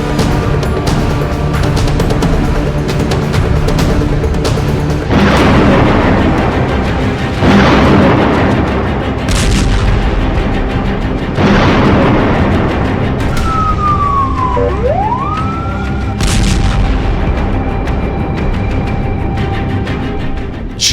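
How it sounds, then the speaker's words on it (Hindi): Israeli air force bombs fall on Gaza, sending several heavy, loud booms at intervals of a few seconds. Wailing sirens rise and fall between the blasts over a constant roar. "जिस वक्त गाजा पर इजरायल की वायुसेना टनों टन बमबारी कर रही है"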